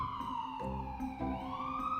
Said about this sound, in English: That was a loud siren.